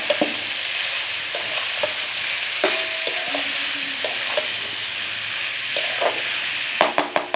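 Fish head and mixed vegetables frying in a pan, stirred now and then: a steady close sizzle runs throughout, broken by light scrapes and knocks of the spoon, with a cluster of louder clatters near the end.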